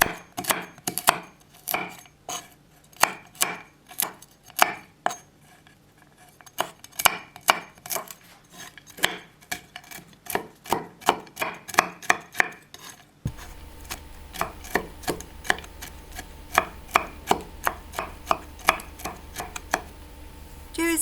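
Walnuts being finely chopped with a knife on a board, a fast irregular series of sharp chops and taps continuing throughout, close and clear with no talking.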